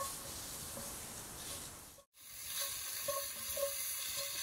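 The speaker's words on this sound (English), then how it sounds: "we are cooking some bacon" Bacon frying outdoors over a campfire in the woods, a steady soft sizzle and hiss with faint crackles and a stirring utensil, briefly cutting out midway before the sizzling resumes.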